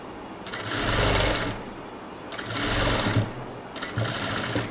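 A sewing machine stitches piping onto cloth in three steady whirring runs, each lasting about a second, separated by short quiet pauses; the motor sound is close and clear with no talking.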